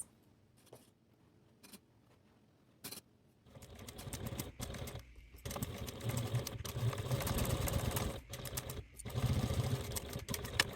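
A sewing machine sews a seam on a fabric project bag: quiet clicks at first, then a sustained faint whirring stitching run with brief pauses.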